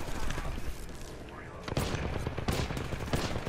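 Rapid bursts of Apex Legends gunfire crackle and pop in quick succession, loud and dense, with a muffled boom underneath and faint voices mixed in.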